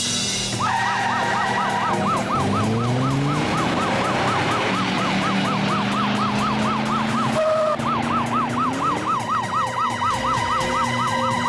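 A police siren wails close behind a moving car. The rising-and-falling tone repeats steadily and loudly over the rumble of the car's engine.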